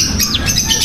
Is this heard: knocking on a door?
no